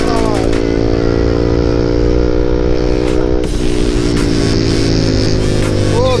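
A Yamaha R15 sport motorcycle engine drones steadily while riding on the street, a loud sustained buzzing tone with harmonic layers, rising briefly in pitch near the end, with wind rush throughout.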